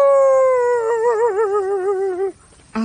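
A person imitates a dog howling: one long, loud, wavering howl that rises into a tremolo and then cuts off abruptly, followed by a brief vocal sound.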